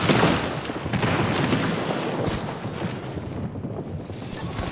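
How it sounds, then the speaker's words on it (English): In a squad shooter video game, a grenade blast lands near the start as a loud, close boom, followed by a long rumbling, crackling tail of debris and scattered gunfire that slowly thins out. "Grenade."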